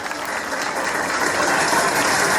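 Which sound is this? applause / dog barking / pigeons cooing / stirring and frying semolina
applause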